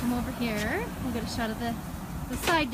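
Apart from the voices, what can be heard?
None of the usual background noises is heard.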